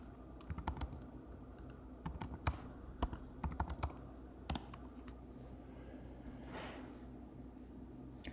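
Someone types a username and password on a computer keyboard, producing quiet, irregular bursts of close key clicks with short pauses between groups, no voices.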